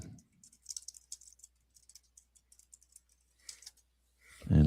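Quick bursts of typing on a computer keyboard tap out close and crisp, clusters of key clicks separated by brief pauses, ending in a louder thump or movement noise.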